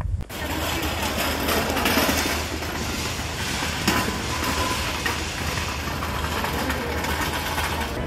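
Steady rumble of a long-distance passenger train on an Indian route from Pune to Kolkata, continuous and fairly loud with broadband rattle and low drone throughout, no voices.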